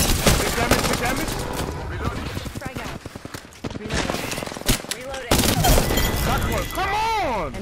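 Rapid gunfire and bursts in a chaotic squad battle royale video game fight, dense shooting and impacts filling most of the clip, with voices talking over it and brief quieter gaps.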